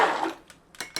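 A spatula scraping flour batter in a bowl: a brief smeared scrape followed by a few quick, soft clicks and taps, close and quiet.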